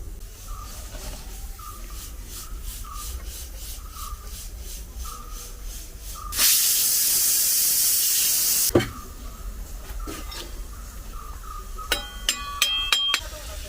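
A pressure cooker in a home kitchen where biryani is being made lets out one loud, steady burst of steam hiss lasting a couple of seconds, framed by quiet room noise and a few light clinks.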